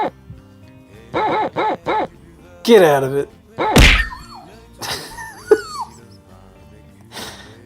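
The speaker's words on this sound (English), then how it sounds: "There's a dog that's bothering me." A dog barks close by indoors in several short, loud bursts, with a person's voice speaking sharply between and after the barks.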